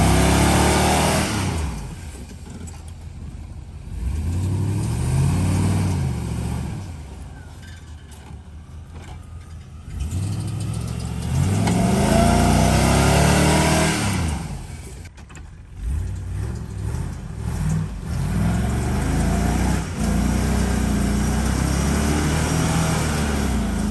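A Suburban's engine revs hard in repeated surges while it tows a flooded Jeep out, loud, close and straining, with rising and falling pulls and mechanical clatter between bursts.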